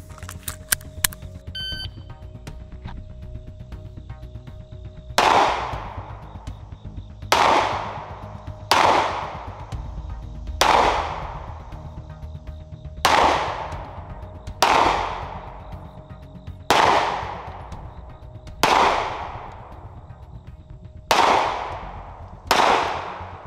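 Pistol fired in a timed shooting drill: a few short timer beeps, then about ten loud, close gunshots at a steady, fairly quick pace, each ringing out with a long echoing tail.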